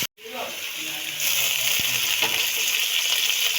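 Capsicum, onion and chicken fry in a pan with a steady broadband hiss and sizzle that swells louder after the first second, with a brief clatter partway through.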